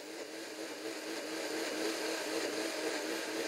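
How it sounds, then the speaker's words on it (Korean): A kitchen blender grinds soft food for a meal, giving off a steady, moderately quiet whirring drone that holds an even pitch throughout with no voices. "식사 준비에 믹서기는 필수다"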